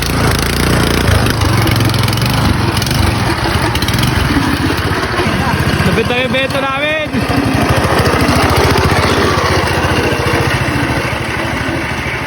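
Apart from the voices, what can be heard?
engine of homemade rail vehicle running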